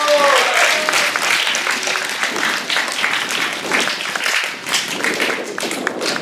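Applause from a small gathering, a steady patter of clapping that runs throughout, with voices and a brief tone mixed in near the start.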